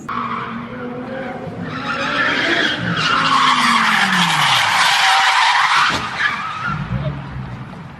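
Tires squeal in a long rising skid that swells loud and sustained over several seconds, then breaks off in a brief thump before engine noise carries on.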